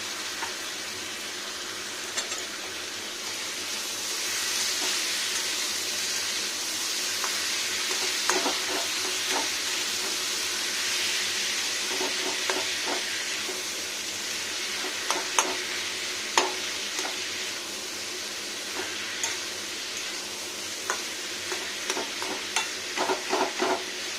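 Tomato, green chilli and peas fry in a pan with a steady, loud sizzle throughout, while a spoon stirs and taps against the metal in scattered clicks that come more often toward the end, without speech.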